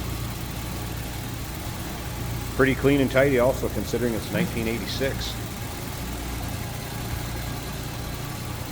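A 1986 Jaguar XJS engine idles smoothly with a steady low hum, while someone speaks briefly over it.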